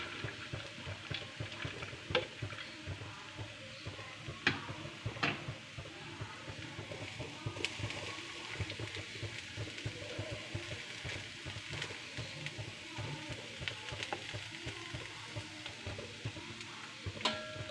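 Beans stir-frying with curry leaves in a pan, giving a steady close sizzle broken by scattered ticks and scrapes of stirring, with no talk.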